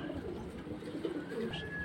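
A pair of Pakistani high-flying pigeons coo in a low, continuous, throaty murmur, close and steady with no talking.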